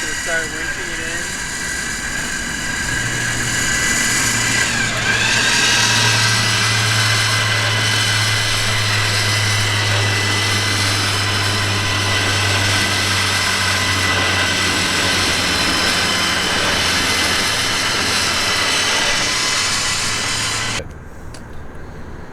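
A winch reels in Master Pull Superline XD synthetic winch line under tension, a loud sustained mechanical whine and motor hum that shifts pitch as it pulls, running for about twenty seconds before cutting off, with a vehicle engine idling underneath.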